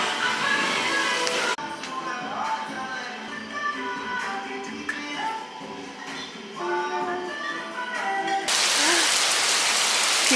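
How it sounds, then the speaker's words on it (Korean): Heavy rain pours down on a city street in Korea, a dense, steady wash of drops that swells loudest at the start and end, with faint voices and movement underneath. "진짜 비 너무너무 많이 옴."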